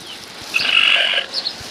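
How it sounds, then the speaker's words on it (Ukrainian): A rooster crows once at a backyard farm during a power outage, a single drawn-out call in the middle with a shorter fainter crow or cackle after it, close by and clear over quiet surroundings. "Півники кукурічуть."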